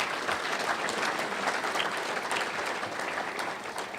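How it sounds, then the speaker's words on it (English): Steady applause from a seated audience honoring the head table at a Chicago Housing Authority gathering, a dense, even wash of clapping holding at a constant level throughout without a break. "let's give the head table a round of applause."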